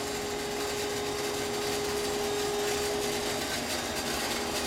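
Radon water aeration unit with its blower running, a steady broadband whooshing roar with a faint constant tone, unchanging throughout.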